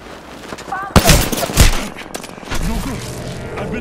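Bursts of gunfire in the Apex Legends video game, a loud close volley near the start followed by scattered shots and lingering battle noise, with voices talking over parts of it.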